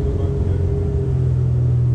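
A boat engine idling at low throttle gives a loud, steady low rumble with a constant hum, close by and continuous throughout.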